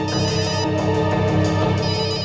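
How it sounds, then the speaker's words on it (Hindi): A telephone rings in repeated bursts of electronic trilling with a steady pulsing rhythm, loud and close, with no one speaking over it. "ओह नो, श्रेया की माँ का फोन है।"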